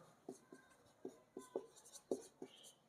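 A pen writes maths working by hand on paper, with short scratchy strokes and taps in an uneven rhythm, close and soft, and no talk.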